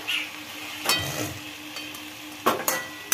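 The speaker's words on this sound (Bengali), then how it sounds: "নাড়া দাও, তলা দিয়ে ভালো করে নাড়া দাও" Firm potato pieces with green chili fry in a pan as a spatula stirs them, giving a low sizzle broken by several close scraping and clattering strokes against the pan, with no talk.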